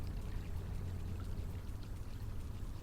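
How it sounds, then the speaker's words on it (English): River water flows steadily past a rocky shore beside a campfire, a continuous close rushing wash with a low rumble, no voices. "You can hear the water of the river flowing by."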